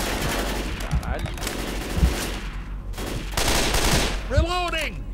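Gunfire from the video game Left 4 Dead 2, with bursts of shots over steady game noise and a loud tonal effect near the end; people talk at times.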